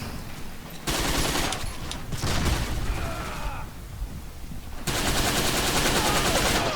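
Machine gun fire in the World War II shooter Forgotten Hope 2, dense sustained bursts of rapid shots that stop briefly around the middle and then resume, fairly loud and continuous.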